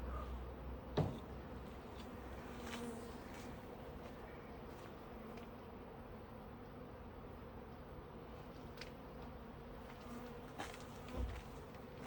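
Honeybees buzz steadily around a hive as nucleus colonies are transferred into it, a dense continuous drone with a few louder bees passing close by, and no talking.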